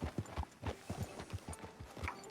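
Horse hooves clip-clop in a steady trotting rhythm in Red Dead Redemption 2, close and clear with no speech over them.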